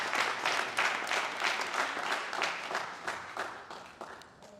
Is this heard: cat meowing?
no